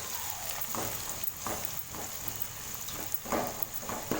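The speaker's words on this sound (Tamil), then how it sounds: "சேர்த்துட்டு வெங்காயத்தை நல்லா வதக்கி விட்டுக்கலாம்." Onions sauté in a pan with shallots, cinnamon, cloves and cardamom for mutton biryani, a soft low sizzle broken by several quick stirring scrapes, fairly quiet and close.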